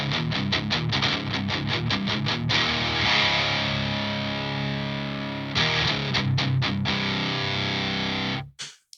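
Distorted electric guitar in C tuning runs through an Earth Quaker Devices Palisades overdrive pedal, loud and alone: choppy palm-muted chugs, a sustained ringing stretch, more staccato hits, then a sudden cut to silence at the end.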